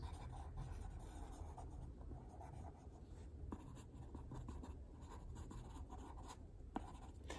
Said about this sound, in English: To draw trees, it's pretty easy. Again, just sketching.